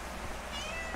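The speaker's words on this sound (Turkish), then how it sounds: "Kedi." Short cat meow at a stone-built hotel complex in Mestanlı, Kırcaali, Bulgaria, thin and wavering, close and fairly quiet over soft background noise.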